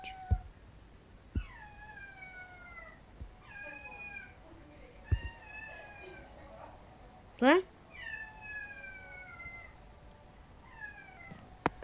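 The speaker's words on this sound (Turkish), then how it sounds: "Kediyi görmeniz lazım şu an. Çığlıklar gibi oluyor oğlum." Cat screams in the Stick War Legacy video game, a series of drawn-out rising meows repeated every second or so, fairly loud, with a voice talking and brief clicks in between.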